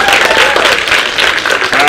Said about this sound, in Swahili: Simama tu tupigie makofi.